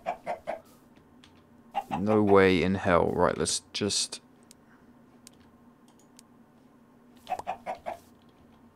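Chickens in the video game TerraFirmaCraft give a few short clucks and a drawn-out rising-and-falling squawk, close and clear, with someone talking around them.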